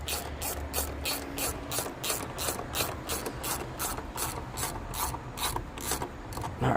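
A ratchet tightening a hose clamp on a Corksport intake fitted to a 2023 Mazda3 turbo, giving a fast, even series of crisp mechanical clicks, close and clear, repeating steadily throughout.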